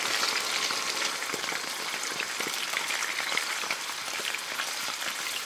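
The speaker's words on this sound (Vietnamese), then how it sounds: "Dầu nóng thì mình cho thịt vào chiên." Beef sizzling and spattering in hot oil in a pan, a dense, steady crackle close by with no voices over it.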